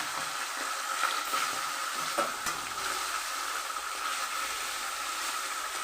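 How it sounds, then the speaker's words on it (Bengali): Fish (fasa, similar to hilsa) frying in a pan, a steady broadband sizzle with faint stirring scrapes throughout, close and continuous with no talk. "তো আমি এবার বাকি মাছগুলোকে ভেজে নেব"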